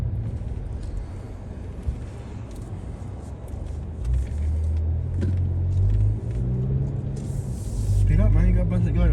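Cars roll through traffic on a road in Calera, Alabama, a steady low rumble of engines and tyres heard from inside a vehicle while people talk over it.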